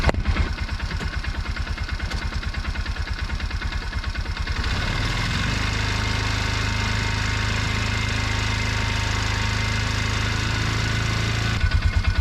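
The engine of a Bobcat 3400XL side-by-side, a Polaris Ranger 500, runs with a rapid rhythmic chug, then its note deepens into a steady loaded drone as it is held at full throttle against the brakes, and the chugging returns near the end.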